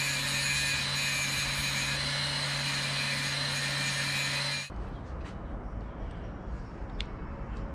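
A belt sander fitted with fresh 80 grit paper grinds a metal shifter part for a CRX in a loud, steady drone that cuts off abruptly partway through, leaving quiet room noise.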